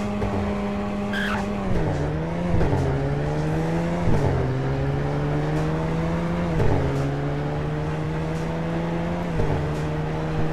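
A car engine revs and climbs through several gear shifts, pitch rising and dropping repeatedly, loud and continuous with a faint tire squeal, during a 0 to 100 acceleration run in Roblox.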